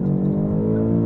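A 2024 BMW X5 M Competition launches under launch control, its engine a loud, steady, close roar throughout the brief burst.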